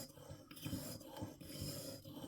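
A curved broadhead is sharpened with short, rhythmic rasping strokes, about two per second, quiet and close, repeating evenly with no voices.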